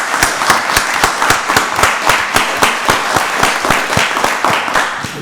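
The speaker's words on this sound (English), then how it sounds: "So let's give Captain Russell another round of applause." Loud, steady round of applause for a captain at a Rockdale County Board of Commissioners meeting, with sharp individual claps standing out in a regular rhythm throughout and no talking over it.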